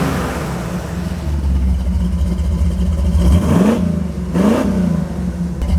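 A vintage Jeep resto-mod engine runs on a road test, a loud close drone that rises in pitch through two revving pulls as the vehicle accelerates through the gears.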